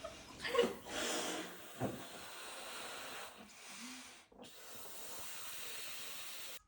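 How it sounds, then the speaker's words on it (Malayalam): Air hisses steadily into party balloons being filled at home, a close, soft rushing that swells and pauses in several bursts. "നമ്മൾ തന്നെ കുറച്ച് ബലൂണൊക്കെ വാങ്ങിച്ച് നിറയ്ക്കുകയാണ് ഇപ്പോൾ"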